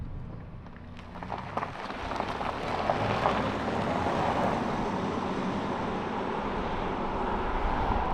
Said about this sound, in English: the engine noise and refinement is really quite decent for a little diesel engine